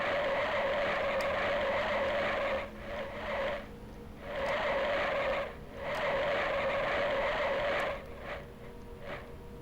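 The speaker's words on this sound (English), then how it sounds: "tire screeching or something" Race car tires screech and skid around North Wilkesboro in the 1996 NASCAR Racing video game, steady loud squealing in long bursts broken by short gaps, with no voices.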